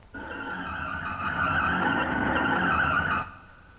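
Car driving out of a garage with its tires skidding, a sustained loud squeal lasting about three seconds that then cuts off, heard alone.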